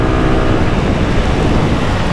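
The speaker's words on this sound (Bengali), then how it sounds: "উইন্ড ব্লাস্ট আবার শুরু হয়েছে" Wind blasting against the microphone during a highway ride on a Suzuki Gixxer motorcycle ahead of a storm, a loud, unbroken low roar and buffeting that covers everything for the whole stretch.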